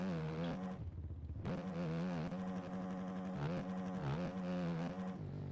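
A motorcycle engine in the MX Bikes motocross racing game revs hard and continuously, its pitch rising and falling with throttle blips and gear changes, loud and close throughout.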